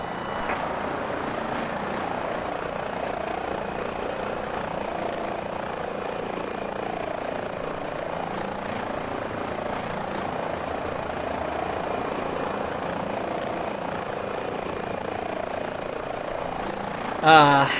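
A rescue helicopter in Microsoft Flight Simulator 2020 drones steadily with a dense rotor and engine roar that stays loud and constant throughout, ending with a brief bump.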